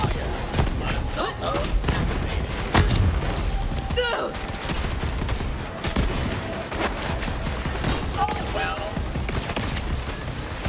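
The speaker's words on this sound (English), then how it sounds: "This Atlas rifle may fire slow, but it does a lot of damage." Heavy Atlas rifle shots in a Borderlands-style shooter crack out in a dense, loud run of booms over busy game noise, with voices talking beneath.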